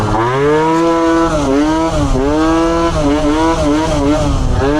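A moped engine revs hard and continuously during a wheelie on a night ride, 26 psi in the rear tyre, its pitch repeatedly rising and dipping as the throttle is worked, loud and close with no talk.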